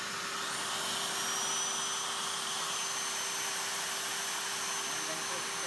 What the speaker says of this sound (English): we're gonna turn the spindle on by pulling this up.